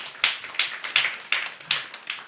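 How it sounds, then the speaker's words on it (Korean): Applause at an exam-prep seminar, a few audience members clapping in distinct sharp bursts, sparse and fairly close, with no talk over it. "우리 원장님 위해서 박수 한번 부탁드리겠습니다."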